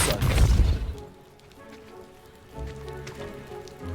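A Depulso spell in Hogwarts Legacy blasts away a pile blocking a stairwell, a loud rumbling burst with crashing debris at the start that fades into a quieter ambient hum with a low thud later.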